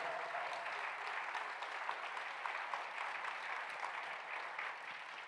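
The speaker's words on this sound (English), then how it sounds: "We should give him a round of applause." Steady applause from an audience at an Arsenal supporters' annual evening event, sustained clapping from a crowd that stays fairly even throughout.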